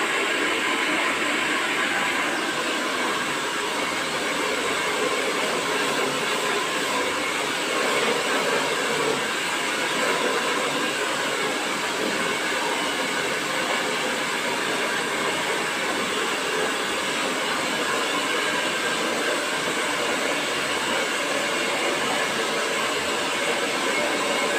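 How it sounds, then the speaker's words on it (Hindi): A hair dryer blows at full power to blast-dry hair, a steady loud whooshing roar with no break and no voices. "तो अभी मैं आपको ब्लास्ट ड्राई दिखा रही हूँ"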